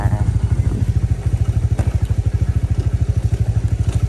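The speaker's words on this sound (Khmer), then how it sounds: "បើសិនជាខ្ញុំជិះម៉ូតូថត" A motorcycle engine throbs steadily at close range throughout, its low pulsing exhaust rhythm loud and continuous while the bike is ridden, with faint clatter over the top.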